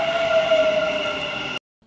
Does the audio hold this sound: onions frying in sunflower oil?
no